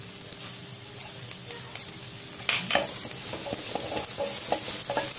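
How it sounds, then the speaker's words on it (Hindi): Cumin seeds and green chili hit hot oil in a pan for a Navratri fasting dish, starting a steady close sizzle with stirring scrapes and sharper crackles growing louder in the second half. "ये देखिए जीरा डाला हाफ टी स्पून, इसी green chilli half tea spoon"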